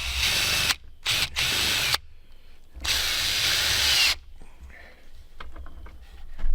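A power drill drives screws into wood, with three loud bursts of whining motor, the last one long and sustained. Brief pauses fall between them, and quieter clicks and handling noises follow.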